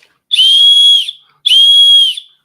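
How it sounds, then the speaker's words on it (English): Two loud, shrill blasts on a handheld survival whistle, each lasting about a second with a short gap between, close and alone with no talking. "Wait a minute, how I blow this whistle?"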